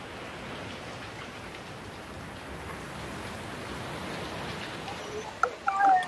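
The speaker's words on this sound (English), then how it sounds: "Now it's raining." Rain falls steadily at Mammoth Cave National Park, Kentucky, as an even, broad hiss, with a few brief louder sounds at the very end.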